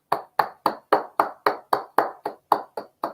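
Video game applause in Project Hospital, a dozen evenly spaced synthetic claps ringing out in a steady, mechanical rhythm, loud and alone.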